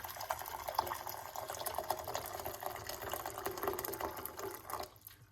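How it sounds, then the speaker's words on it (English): Water pours steadily into a cup for about five seconds, a close, continuous splashing trickle that stops abruptly near the end. "We're gonna start off with 1 cup of hot water."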